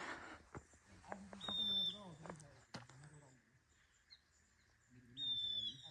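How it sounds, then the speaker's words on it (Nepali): Birds in the forest at Sailung, Dolakha, Nepal give faint, thin whistled chirps on and off, with people talking nearby. "चराचुरुङ्गीहरू पनि कराइरहेको छ"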